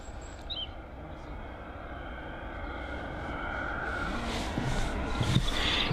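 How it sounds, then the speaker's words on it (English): An EasyJet Airbus A320-200 airliner at Bristol Airport, a broad steady engine roar that slowly swells louder, with a person talking over it. "it's the EasyJet A320-200 heading over to Rhodes"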